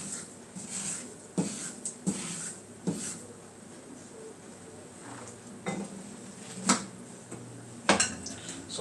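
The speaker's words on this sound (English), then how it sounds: "Mixing it up real good while the hot oil is boiling also." A utensil stirs curry in boiling hot oil in a pot, giving loud metallic scrapes and clanks at irregular intervals over a continuous low background, close and alone with no talk.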